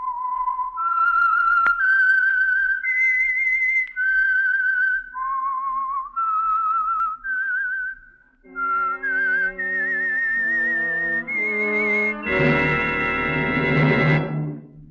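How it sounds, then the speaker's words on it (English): Signature whistle of The Whistler, the Signal Oil radio program. A clear, loud solo whistle carries a slow, stepping melody with sustained notes, then a bright orchestral chord swells in under the final phrase. "the signal to listen for is this whistle that identifies the Signal Oil program, The Whistler."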